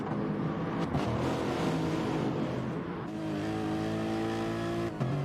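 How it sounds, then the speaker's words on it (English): A pack of race cars runs nose to tail in a video game race, a dense, continuous engine drone with layered revving tones, steady and loud with no voices. "Just a pack of cars all the way behind Mr. Frost."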